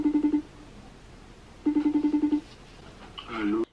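Phone call being placed: two bursts of evenly pulsed ringback tones sound clearly, each a short rapid train, followed by a brief burst of higher tonal chirps at the end.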